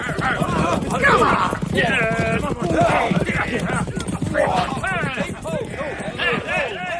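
Thirteen riders take to horse in pursuit, their hooves galloping in rapid, dense clip-clop rhythm that fills the passage, with occasional whinnies and barking mixed in, under a narrator's voice in a radio drama.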